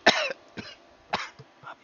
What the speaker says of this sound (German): Hab ich Husten.